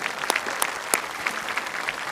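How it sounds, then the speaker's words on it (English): A school graduation audience claps in a steady, even wash of applause, a few sharp individual claps popping out above the crowd at moderate loudness, no talking. "get a round of applause for the weather"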